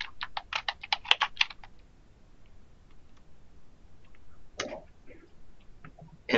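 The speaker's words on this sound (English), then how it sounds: "I'm going to type the title of the journal" Burst of quick, crisp keystrokes on a computer keyboard as a journal title is typed, close by, followed by a quiet pause and then a few scattered key presses; nobody talks.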